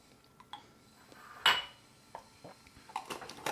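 A glass jar of drinking yogurt mixed with homemade blackberry jam is shaken by hand, giving a few sharp clinks and rattles, one loud knock near the middle and a quick flurry of close knocks at the end.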